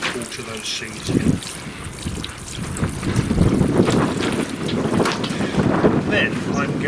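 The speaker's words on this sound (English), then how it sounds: "Water those seeds in." Water trickles and splashes over freshly sown parsnip, courgette and parsley seeds in an outdoor garden bed on a cold day, mixed with wind buffeting the microphone and a person talking.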